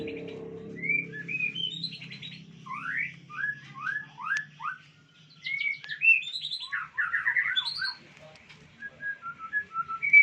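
A white-rumped shama sings a varied series of clear whistles and rapid chirping phrases, close and fairly loud, with soft background noise.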